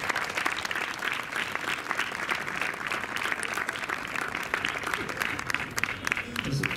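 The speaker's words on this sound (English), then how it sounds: "very big round of applause" A hall crowd at a hospital anniversary program applauds the canteen staff, a sustained, dense wash of clapping at moderate distance with some voices mixed in.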